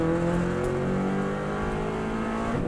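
Subaru WRX STI rally car on a flat-out lap of the Isle of Man road course, its engine droning loud and close with shifting revs, harmonics sliding as it pulls through a corner, no talking over it.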